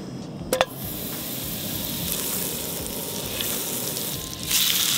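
Butter and Creole-spiced blackened salmon sizzle in a hot pan with a loud, steady crackling hiss throughout, preceded by a brief sharp clink and swelling slightly louder near the end.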